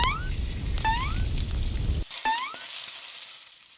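Fish fries in oil with a dense crackling sizzle that cuts off abruptly about halfway, while high rising whistle-like chirps sound over it and continue after the frying stops.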